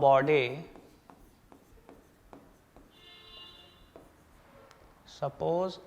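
Writing strokes during a Class 9 physics lesson on motion: a series of short, soft scratches and taps spread across the middle, with a voice speaking briefly at the start and again near the end.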